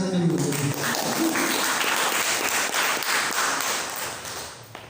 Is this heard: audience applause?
yes